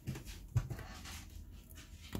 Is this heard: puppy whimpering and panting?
yes